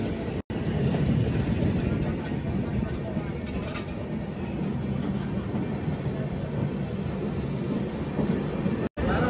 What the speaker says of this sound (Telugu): అదిగోండి వచ్చేస్తుంది విశాఖ. వ్యాప్ 7 లోకోతో అయితే వస్తుంది విశాఖ ఎక్స్ప్రెస్.